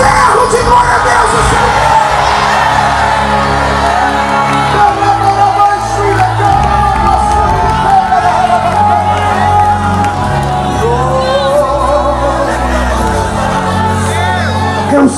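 A church congregation shouting and cheering in praise, a loud sustained roar of many voices with yells and whoops filling the whole stretch.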